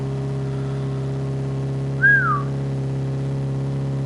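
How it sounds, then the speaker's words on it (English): One short rising-and-falling whistle by a person trying to excite a dog, heard alone over a steady low engine-like hum. "When I whistle like that, she gets all excited"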